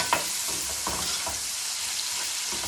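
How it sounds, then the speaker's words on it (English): Chopped onion stir-frying in hot olive oil, a steady close sizzle and crackle throughout with a few soft stirring scrapes, no voices. "Next we're going to add in the onion. And we're going to stir fry that"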